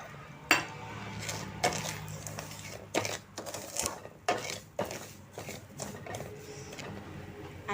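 Semolina roasting with ghee in a pan for sheera prasad, a spoon scraping and clinking against the metal in irregular taps and stirs, close but quiet over a faint background hum.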